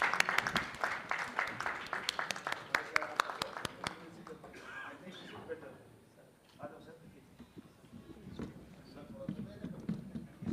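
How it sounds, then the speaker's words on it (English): Applause from an audience at a startup festival event on stage, a burst of claps in the first few seconds that fades into a murmuring hall with scattered voices. "A round of applause, everyone."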